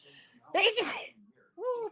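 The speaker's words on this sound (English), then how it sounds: "I'm gonna sneeze." A single sharp human sneeze bursts out close to the microphone, followed by a short voiced exclamation, with quiet breathing before it.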